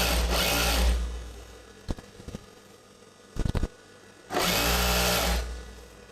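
A sewing machine stitches a chudidar gathering pant in two steady whirring bursts at the start and end, separated by a quiet stretch with a few sharp clicks.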